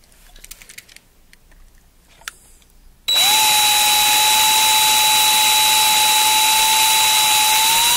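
Faint clicking and tapping give way to a power drill with a worn bit whirring steadily at high speed in a 1/64 scale model workshop, loud and continuous until the end.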